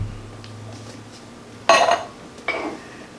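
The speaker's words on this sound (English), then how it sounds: "I'm just going to shake them in." Drained chickpeas from a 15-ounce can shaken into a salad bowl, giving two short clattering clinks a moment apart against a quiet kitchen background.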